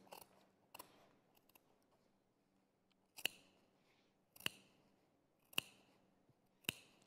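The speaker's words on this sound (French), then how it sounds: "Je vais venir fendre avec les ciseaux jusqu'où" Crisp snips of tailoring scissors slitting a dart in cloth, a few spaced cuts with quiet pauses between, close by.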